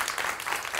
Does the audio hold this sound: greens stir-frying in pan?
no